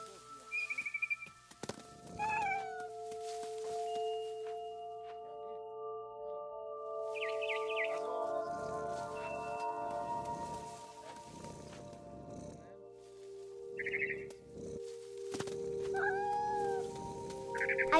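Game cat from What Remains of Edith Finch gives several high, drawn-out meows spread across the stretch, over a soft ambient musical drone with faint bird chirps and rustling.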